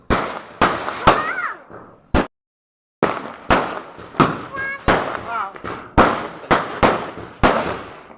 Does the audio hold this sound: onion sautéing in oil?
no